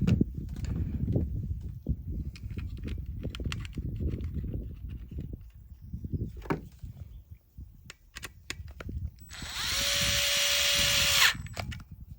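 A power screwdriver runs in one short burst of about two seconds near the end, snugging screws on a Traxxas TQi transmitter, preceded by quiet handling clicks and knocks on a workbench.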